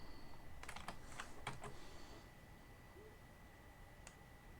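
Quick bursts of keystrokes on a computer keyboard in a quiet room, clustered clicks in the first couple of seconds and one more isolated tap near the end.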